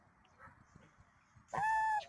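A pet goose gives one loud, close honk while grazing outdoors, after a stretch of quiet background noise.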